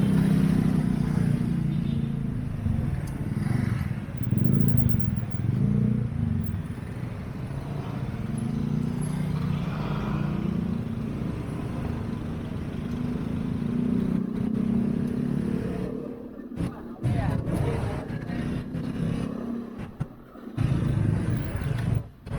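Night street traffic heard from an electric mountain bike, with car and motorcycle engines rumbling close by, passing and revving amid a busy crowd near a fair, plus brief rattles and some talk.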